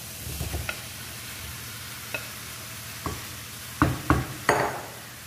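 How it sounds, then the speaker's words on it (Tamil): Marinated potatoes being stirred into masala in a pan for aloo dum biryani: a soft sizzle runs under a few scattered spoon scrapes and taps, with three louder clacks near the end. "இந்த மசாலா எல்லாத்தையுமே நல்லா mix பண்ணிக்கலாம்."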